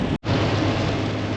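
Steady rain drums on a cargo van while it drives, a dense continuous hiss and patter broken by one brief dropout near the start, loud and close with no talk.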